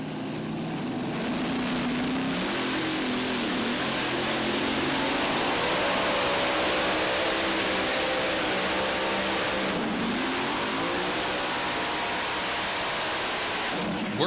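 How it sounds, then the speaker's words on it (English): Thunderous, broadband roar of the War Wagon pulling tractor with five supercharged Meyer Brother racing engines at a Bowling Green pull, sustained and loud with rising engine tones under the blast. "This has 5 supercharged Meyer Brother racing engines on it, tuned by Wayne Keefe"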